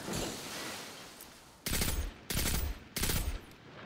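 Gunfire in the video game Destiny 2: three loud, dense bursts of automatic fire, each lasting about half a second, following a stretch of lower, steady game noise.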